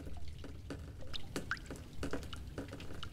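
Water drips in a game level of The Stanley Parable Ultra Deluxe, a series of distinct wet plinks at an irregular rhythm over a low background hum, close and fairly clear, with no voices.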